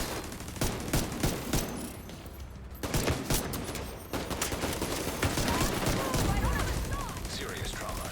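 Gunfire in The Division 2: repeated bursts of rapid automatic shots and scattered single cracks, loud and close, with some in-game sounds and a voice in between.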